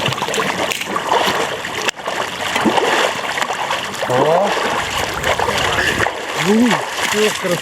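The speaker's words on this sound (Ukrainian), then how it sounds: "Занурилися у крижану воду більше ста чоловік." More than a hundred people plunge into icy water at an Epiphany winter swim in Kryvyi Rih, a continuous broad wash of splashing and sloshing with crowd voices and shouts mixed throughout.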